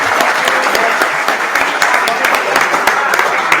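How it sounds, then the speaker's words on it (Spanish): Loud, dense applause from an audience in a classroom or lecture setting, steady rapid clapping filling the whole stretch without letting up. "Un aplauso para Diego."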